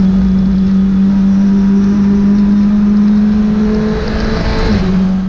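A Honda Civic Type R TCR race car pulls uphill at full throttle on the Jarama circuit, its engine a loud, sustained onboard drone that holds steady before a brief dip and recovery near the end.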